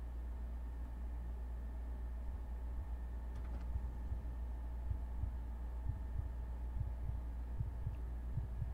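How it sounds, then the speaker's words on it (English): A slow, muffled heartbeat throbs steadily under a low constant hum during The Closing Shift, a Chilla's Art horror video game, its soft thumps growing a little more distinct toward the end, with no one speaking. "Why do I hear a heartbeat?"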